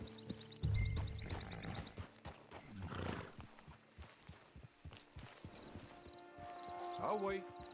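Horse hooves clop in an uneven walking rhythm, with a neigh and people talking faintly in the background.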